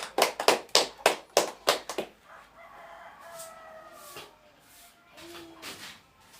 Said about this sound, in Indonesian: Kita berikan aplaus untuk Ibu Ita